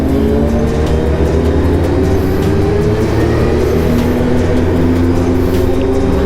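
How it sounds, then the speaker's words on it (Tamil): A group of Hayabusa superbikes pulls away together on a team ride in the Kolli Hills, with a dense, loud engine drone and rising rev notes held steadily throughout. "வண்டி புஷ்ஷுன்னு போக ஆரம்பிச்சாச்சு"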